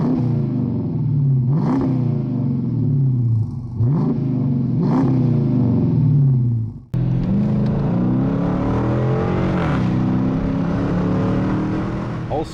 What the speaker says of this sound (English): talk about that V8 power plant up front